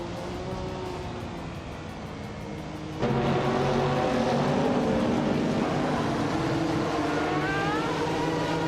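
Race car engines in a racing video game, including a 1991 Chevrolet Intrepid RM1, drone in a steady, loud roar with rising and falling revs, then jump louder as more cars close in.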